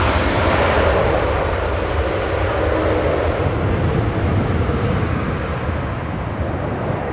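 A plane arriving at Los Angeles International Airport roars with a steady, broad jet rumble and wind buffeting on the microphone, loud and sustained throughout.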